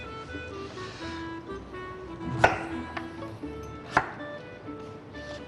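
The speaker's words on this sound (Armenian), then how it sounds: "Բոլոր բանջարեղենները հիմա կտրատենք" A knife chops autumn vegetables on a board in a few sparse, sharp strikes separated by pauses, over a quiet low background hum.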